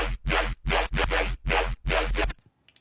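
Aggressive Serum dubstep bass synth patch with its multi-band compressor switched off, played as five loud, wide-band stabs in a choppy rhythm, then cutting to near silence.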